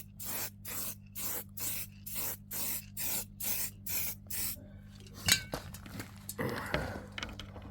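An aerosol spray paint can coats VW fog light grilles in about nine short, regular hissing bursts up close, then stops, followed by a few light clinks and handling knocks.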